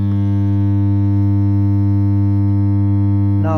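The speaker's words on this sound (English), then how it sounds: "I'm going to play this 100 Hz sine wave with the help of my soundbar." A 100 Hz sine wave plays through a soundbar as a loud, continuous low hum with a buzzy edge, holding steady with no voices and a brief rattle near the end.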